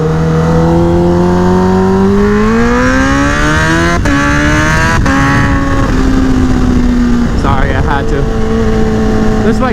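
A heavy 1000cc sport motorcycle being ridden hard. The engine note climbs steadily as it accelerates, with quick gear changes, all under loud, constant wind rush.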